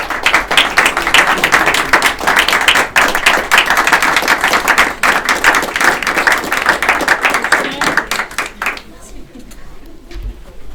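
An audience applauds a speaker at a residents' presentation, vigorous clapping with birdlike coos or whistles mixed in, holding for several seconds before cutting off abruptly into a quieter room with faint voices.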